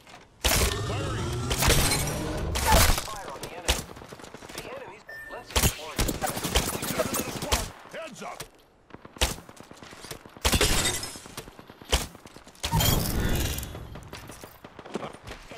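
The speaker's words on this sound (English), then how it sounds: "I am taking fire, friends." Gunfire in the video game Apex Legends, with bursts of shots and sharp impacts in several loud clusters separated by short gaps, while a player's voice talks in between.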